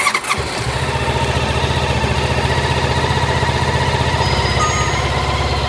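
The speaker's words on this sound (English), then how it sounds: "So let's go ahead and start the bike." A Honda ST1300 Pan European motorcycle engine cranks briefly and catches, then settles into a steady, loud, close idle with an even low rumble that continues to the end, with no talking.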